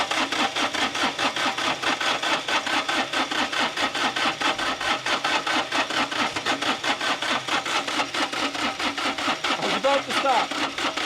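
Abandoned three-cylinder Kubota diesel in a Jacobsen hydrostatic reel mower cranking at full throttle, a steady rapid rhythmic chug of the starter turning the engine over, loud and close for the whole stretch.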